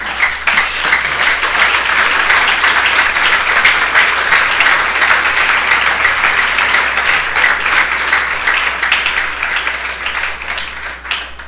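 A church congregation applauds loudly during a sermon, a dense, sustained roar of clapping that stays strong throughout and eases only slightly at the close.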